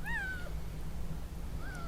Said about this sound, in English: Why do you keep crying, eh? I've got nothing for you, pusscat.